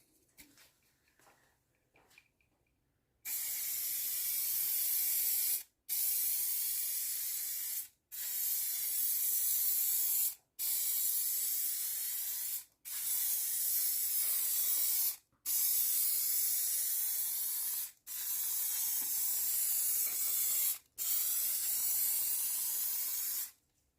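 Halfords clear coat lacquer sprayed from an aerosol can with a fan nozzle onto a Mk2 Golf GTI 16v sunroof, close-up hissing in eight steady bursts of about two seconds each with short pauses between.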